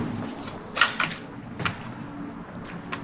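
A door gets pulled and shut with a couple of sharp knocks and a sliding scrape, close by and fairly loud, right after a car engine is switched off, with no talk over it.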